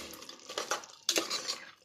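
A spoon stirs mutton curry in a cooking pot, giving two bursts of scraping and clattering against the metal, fairly close, with no voices.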